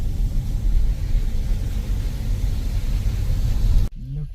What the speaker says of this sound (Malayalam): കാറ് കാണുന്നു.